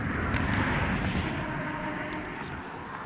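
Zippkits JAE 33FE RC motor on its first 8s run makes a loud, steady airy whine and rush at partial throttle, holding even with a slight fade toward the end.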